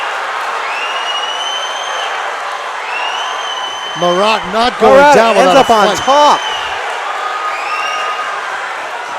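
Crowd at a Combat Zone 70 MMA bout between Edwards and Marotte cheers and shouts in a loud surge midway through, rising over steady arena murmur while an announcer commentates throughout.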